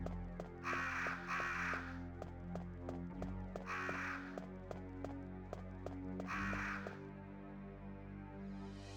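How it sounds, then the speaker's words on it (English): Crows in the game Resident Evil caw loudly in three harsh bursts over a background of regular ticking and low droning music, and the calls stop short of the end. "the birds start going fucking crazy"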